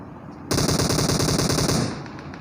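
A sudden burst of rapid automatic gunfire in the PUBG Mobile battle royale game, loud and close, lasting about a second and a half before cutting off, over a faint background.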